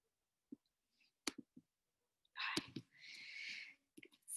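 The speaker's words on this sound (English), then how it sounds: "clicking all these things and it never clicks the right way" Computer mouse clicking in sharp, isolated clicks spread across a quiet room, followed by a burst of rustling and hissing noise.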